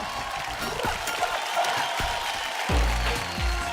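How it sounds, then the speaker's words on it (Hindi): A studio audience applauds a performer at a stage show. The clapping is a dense, moderately loud patter that runs for a few seconds and swells slightly toward the end. "जोरदार तालियां हो जाएं इनके लिए"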